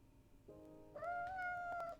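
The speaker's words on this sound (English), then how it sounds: "Carlo mewed quietly, watching over us." A cat in Piofiore: Fated Memories gives a soft, rising meow followed by a longer drawn-out mew, close and quiet over a faint background hum.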